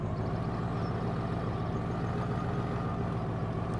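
A Ford F3 pickup truck towing a trailer in Farming Simulator 17 reverses with a steady, low idling engine rumble, continuous and close with no other sounds.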